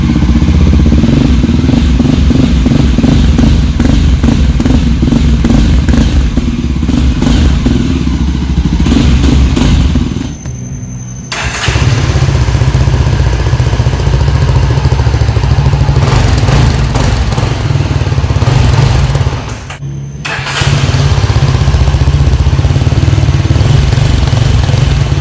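Yezdi Adventure and Scrambler motorcycles taking turns, each exhaust note a loud, close, raspy thrum with blips of revving, broken by two brief pauses where one bike cuts out and the other starts.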